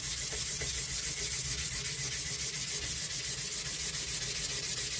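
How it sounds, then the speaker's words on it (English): A moist sandpaper block rubbed back and forth along a firearm barrel, making a continuous, even, close-up hissing scrape with no pauses. "then just turn the barrel around a little bit more, keeping your sandpaper kind of moist, keeping it clean"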